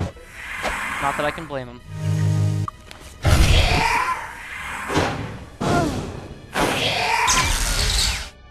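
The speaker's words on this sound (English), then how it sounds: "Cast Fire Blast" Fire Blast spells go off in Might and Magic 6, with repeated loud whooshing, crashing bursts, several in a row, and a voice speaking between them.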